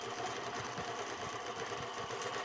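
A sewing machine stitches steadily while free-motion quilting along a ruler, a fast, even, close mechanical whirr running continuously throughout.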